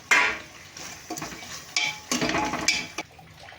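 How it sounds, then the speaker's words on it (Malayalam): A spoon stirs tomato into chicken biryani masala in a pressure cooker, with a few close scraping and clattering strokes against the metal pot and a soft wet sizzle beneath. Nobody talks. "അപ്പോൾ തക്കാളിയും കൂടി നന്നായിട്ട് അതിനകത്ത് ചേർത്തിട്ട് നല്ലപോലെ ഇളക്കി യോജിപ്പിച്ചിട്ടുണ്ട്."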